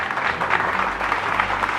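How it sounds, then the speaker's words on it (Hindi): Audience applause at a constitution quiz show, a steady wash of many hands clapping at once, fairly loud and close, with no voices over it. "तालियां।"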